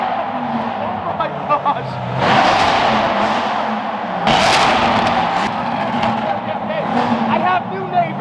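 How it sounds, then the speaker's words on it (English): A C8 Corvette with an FI exhaust accelerates hard, its loud engine swelling through two sharp rev surges and gear changes, close and roaring, with an excited voice shouting over it. "The FI exhaust C8 Corvette."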